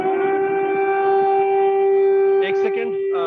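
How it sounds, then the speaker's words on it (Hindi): A civil defense air raid siren in Ukraine holds a steady, loud wail throughout, with a brief burst of faint voices near the end. "जब भी ये सायरन बजता है,"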